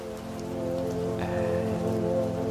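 Pouring rain drums steadily and close on a surface, a continuous even patter with a faint tonal hum underneath and no voices.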